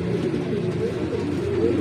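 Racing pigeons cooing at their loft, low soft coos that run on and overlap against steady background noise, fairly close and fairly loud, with no talking.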